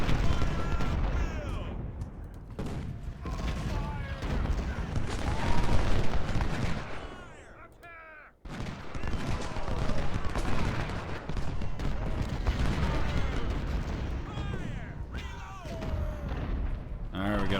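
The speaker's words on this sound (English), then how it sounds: "Alright, 4-inch siege guns. Let's hit these guys." 4-inch siege guns fire in the Ultimate General: Civil War game as a dense, continuous roar of booming cannon and crackling gunfire, loud throughout, with a short dip partway through.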